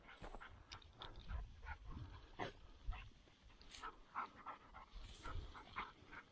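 A hunting dog on a quail hunt pants and gives soft yips and whimpers, close and steady throughout, with no talk.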